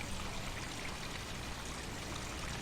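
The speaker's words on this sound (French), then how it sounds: "vous êtes submergé par les sons de la forêt, le clapotis de l'eau, le bourdonnement des insectes, le chant des oiseaux" Forest ambience with steady running and lapping water, a soft, even wash of babbling flow that stays constant throughout with no voices.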